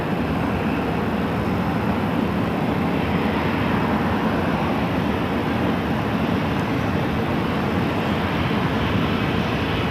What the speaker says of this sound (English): Another United 737, looks like an 800 pushing back.